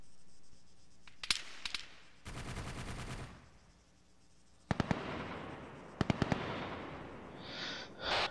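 Sporadic game gunfire in Arma 3: a few sharp isolated shots and short bursts, plus a longer rattling volley, heard at moderate distance with quiet gaps between them and no talking.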